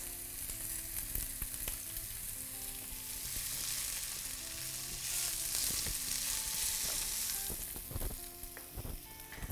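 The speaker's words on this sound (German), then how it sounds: "Die Zwiebeln habe ich schon mal geschnitten und die kommen jetzt ins heiße Öl." Plenty of chopped onions fry in hot oil for a vegan Spätzle pan, giving a steady bright sizzle with occasional stirring clicks and scrapes, close and alone without any talk.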